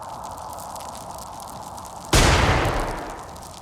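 Flashbang grenade going off in the turn-based video game Xenonauts: a steady ambient game hum, then a single sudden loud blast that ends in a broad rumbling decay over about a second and a half.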